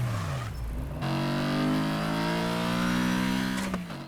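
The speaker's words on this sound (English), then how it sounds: "where for some reason the straight cut gears are loudest" BMW M4 fitted with straight-cut gears in the Need for Speed Heat racing game, engine revving loud and close with a whining gear note, dropping briefly around a shift before climbing steadily in pitch and cutting off near the end.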